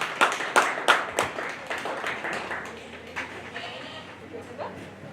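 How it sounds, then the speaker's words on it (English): Applause from spectators at a dairy goat show during the 2025 Sheridan County Fair: a few sharp claps that quickly thin into scattered clapping and fade, with faint voices and ring noise in the background. "let's give her a big round of applause."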